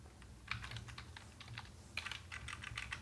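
Keys clatter on a computer keyboard as a short text is typed, in uneven bursts of close, light clicks with a brief pause in the middle and no talking.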